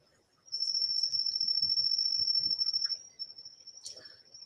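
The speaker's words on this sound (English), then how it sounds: "Yes, they are crickets." Crickets chirping in a steady, high-pitched continuous trill that runs for a few seconds, then continues more faintly with a brief extra chirp, with soft low murmuring underneath.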